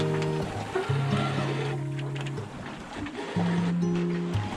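A sailboat's engine runs in the background on a light-wind Gulf Stream crossing from Canada to Bermuda, a steady low drone under sea and boat noise, with tonal hums rising and falling in long held stretches.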